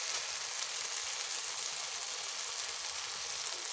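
Masala of onion, tomato and turmeric fries in a pan for Bengali rui fish kalia, giving a dense, even sizzle with no breaks, fairly soft and close.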